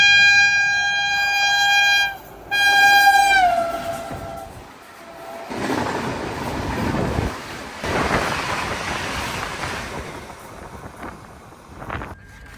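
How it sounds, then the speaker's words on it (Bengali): A horn sounds in long sustained blasts, pausing once and then bending down in pitch, before the Rajdhani Express passes on the Konkan Railway with a broad rumbling, rushing roar that swells and eases, wind buffeting throughout. "রাজধানী এক্সপ্রেস ক্রস করবে।"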